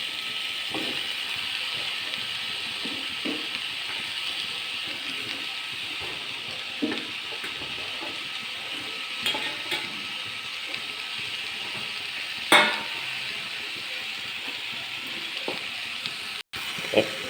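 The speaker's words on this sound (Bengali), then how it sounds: "এর মধ্যে আমি কেটে রাখা বেগুন ও পুঁই ডাঁটা দিয়ে দিচ্ছি।" Pumpkin, bottle gourd, brinjal and Malabar spinach stalks fry in a pan with a steady soft sizzle, and occasional clinks and scrapes of a utensil stirring come through over the hiss.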